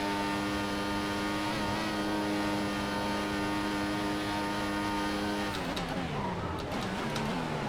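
A Formula 1 racing car engine from the F1 2014 video game at the Japanese Grand Prix qualifying, with a steady high-pitched whine that shifts sharply near the end as the revs drop and climb again.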